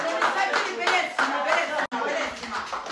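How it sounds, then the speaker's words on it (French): Clapping from an audience at a lively French web-show pageant segment comes in dense bursts under excited chatter, with a brief cut partway through before the clapping and voices carry on. "Applaudissez, oh."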